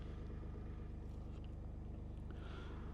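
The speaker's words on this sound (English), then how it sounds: "And my truck just kicked on" A truck engine idling steadily with a low, even rumble and rhythmic pulsing, running as the power source for an off-grid homestead, close and continuous with no talk.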